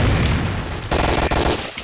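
A grenade blast and bursts of gunfire in a first-person shooter match, loud and close: a heavy wash of noise that drops briefly, then slams back in with sharp cracks.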